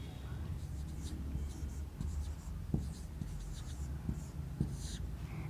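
Writing on a board during a history lesson, faint scratchy strokes and a few light taps of the marker or chalk, quiet and close with a low background rumble.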